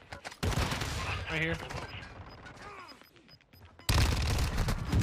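Gunfire in the video game Warzone 2, with loud bursts of rapid shots at the start and again at the end, mixed with mechanical clatter, while a player speaks briefly between them.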